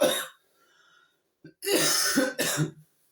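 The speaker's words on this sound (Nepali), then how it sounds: "खोकी चाहिँ बबालै लागेर खोकीले चाहिँ तनाव भयो" A person coughs hard in a home kitchen while heating roti: one short harsh cough, a pause, then a longer, rougher burst followed by a final cough, close to the microphone with no talking.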